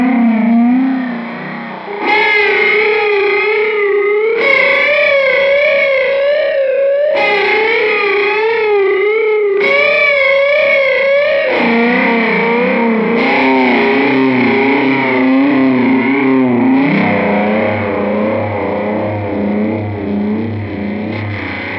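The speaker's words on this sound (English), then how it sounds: "That was how to do it using a Polychorus and a distortion" Electric guitar through a Polychorus and a distortion pedal, warbling and gritty, plays a slow series of sustained, wavering notes, loud and alone.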